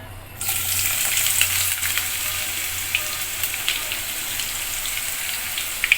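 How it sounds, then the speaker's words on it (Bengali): Sliced onions dropped into hot oil for birista over a medium-high flame for a restaurant-style chicken roast: a quiet start, then a sudden burst into a steady, close sizzle with faint crackles. "দেখেন আমি বেরেস্তার জন্য পেঁয়াজগুলো দিয়ে দেব এর মধ্যে।"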